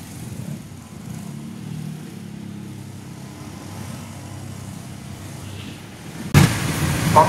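A Motorstar TVX 150 liquid-cooled motorcycle being ridden, its engine a steady low drone that runs continuously, then a louder, rougher burst of wind and engine noise in the last second.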